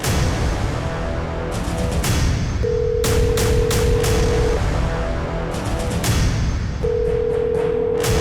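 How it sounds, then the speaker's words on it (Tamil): A phone call rings out as a steady tone that sounds in repeated long stretches with gaps between them, loud and close over a dense, noisy dramatic soundtrack with booming hits. "மினி, மினி, மினி செல்லம், ஃபோன் பண்ணி பார்க்கலாம்."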